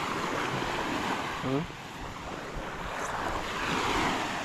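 Sea waves wash steadily onto a shore lined with trees, a continuous broad rushing surf with wind buffeting the microphone throughout and a brief voice near the middle.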